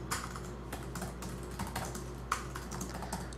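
Typing a command on a computer keyboard at a terminal while working through a HackTheBox exploit: a steady clatter of close key presses with one sharper tap, heard alone for a few seconds.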